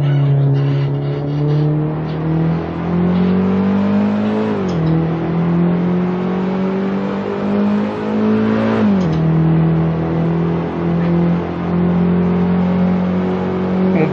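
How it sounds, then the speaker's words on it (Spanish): A BMW M3 E30 in Assetto Corsa howls around the Nürburgring, its engine note loud and steady with a brief dip around four and nine seconds as it shifts, then climbs again; no voices. "Tiene un sonido bacanísimo este carro, ¿verdad? Es mucho más entretenido que el E92."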